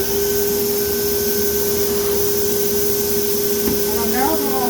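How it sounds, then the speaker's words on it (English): A Leister hot-air heat welder runs along an oversized vinyl banner on a table, giving a steady close blower hiss with a constant high whine throughout, plus a brief rattling chirp near the end. "I'm going to continue this heat weld. Move the leister back up into position."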